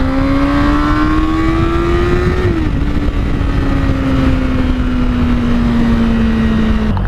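A Honda CBR600RR motorcycle engine drones loudly while riding, its pitch climbing steadily, dipping at a gear change, then easing down as the bike cruises, with constant wind rush.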